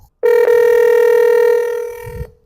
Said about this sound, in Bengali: ক্লিক করলাম রিং হচ্ছে